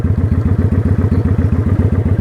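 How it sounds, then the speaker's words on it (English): A motorcycle engine idling or revving at low speed during gear shifting, a loud, close, rapid and even thumping pulse of exhaust beats. "you should hear the bike when it starts revving up"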